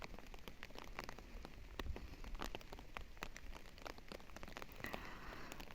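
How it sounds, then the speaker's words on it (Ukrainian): Light rain patters steadily on surfaces, with scattered sharper drops tapping close by over a soft, continuous hiss. "Іде дощ, невеличкий, грибний."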